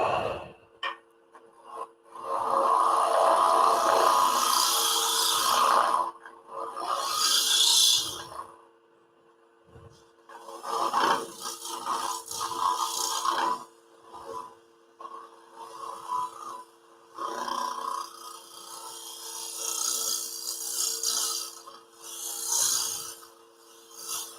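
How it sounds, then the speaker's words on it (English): A wooden snowflake bowl spins on a lathe while a scraper works its surface, giving long, rough, rasping scrapes in sustained passes broken by short pauses, close and fairly steady. "Back to scraping."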